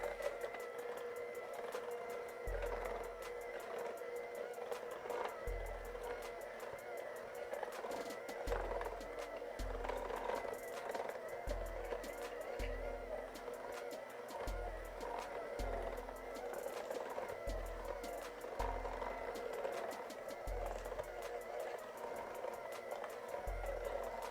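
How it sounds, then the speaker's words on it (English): An electric mixer whirs steadily through a melted butter batter for peanut butter bars, a constant mechanical drone with low knocks recurring every second or so as the beaters hit the bowl. "I'm going to go the easy route and use a mixer"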